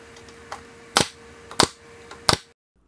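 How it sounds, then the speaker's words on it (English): A nail gun drives nails into Baltic birch shelves, giving four sharp, loud pneumatic snaps at roughly half-second intervals, the first softer, over a faint steady hum, then silence. "I then come with my nail gun and shoot a few nails in each one"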